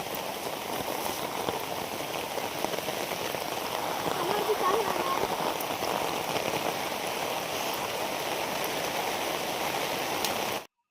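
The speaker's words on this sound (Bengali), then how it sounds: "যত সময় যাচ্ছে বৃষ্টি বাড়তেছে।" Steady, dense rain pours down continuously, a broad wash of drops pattering on surfaces without letup for the whole stretch.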